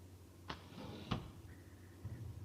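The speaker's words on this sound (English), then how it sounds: "Now we're going to open the drawer." Drawer opened in the VR puzzle game The Room VR: A Dark Matter: two short wooden knocks half a second apart, then a soft sliding scrape and a faint tonal hum, quiet and close.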